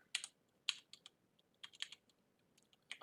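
Clicky computer keyboard keys tapped in short irregular bursts while entering spreadsheet data, faint and close, with small pauses between clusters of keystrokes.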